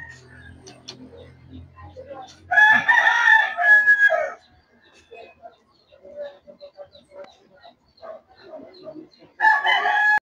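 A rooster crows loudly twice, several seconds apart, while rain-soaked hens cluck softly in between, fairly close by during a rainfall.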